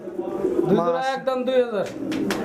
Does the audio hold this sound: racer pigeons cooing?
yes